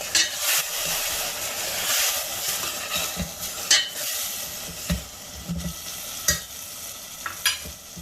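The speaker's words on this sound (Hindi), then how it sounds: "मसाले को भी कुछ देर भूनेंगे" Ground tomato and spice mix frying on a high gas flame for Sindhi seyal aloo bhindi, a steady close sizzle with repeated scraping and stirring knocks from the spoon.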